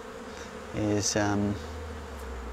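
Honey bees buzzing over a Flow Hive Classic brood frame during an inspection, a steady close hum with a louder rising drone passing near the microphone for under a second, a brief spoken word under it.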